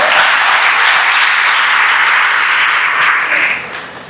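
A dense burst of audience applause fills a hall at an embassy event on protecting women's rights. It stays loud and even, then tapers off at the very end.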